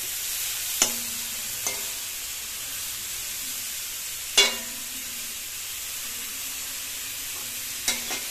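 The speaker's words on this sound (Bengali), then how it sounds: "কষানো শুরু করে দিয়েছি ফুলকপি" Cauliflower sautéing in a pan with a constant hissing sizzle, while a spatula scrapes and taps the pan in three or four separate distinct strokes.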